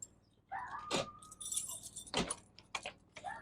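A set of RV door keys jangles close by in several short metallic bursts of clinking, with brief quieter gaps between handlings.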